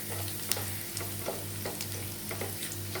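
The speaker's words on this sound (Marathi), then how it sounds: "लसूण व्यवस्थित आपण असं त्यामध्ये फ्राय करून घेऊया." Unpeeled garlic cloves fry in hot oil in a pan, giving a steady close sizzle with soft periodic stirring scrapes and a low rhythmic hum underneath.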